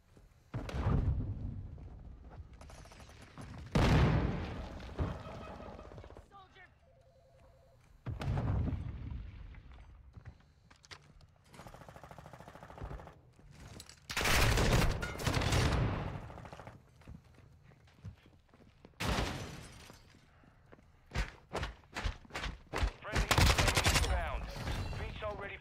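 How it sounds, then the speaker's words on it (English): Sentry gun fire in Modern Warfare II, loud bursts of rapid automatic shots that come and go in several volleys between quieter stretches, with radio chatter and distant battle noise in between. "Sentry gun deployed."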